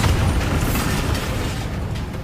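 Bombarda spell explosion in Hogwarts Legacy: a heavy, booming blast that hits at the start and rolls into a long low rumble with gritty debris texture, slowly fading over about two seconds, with no voices.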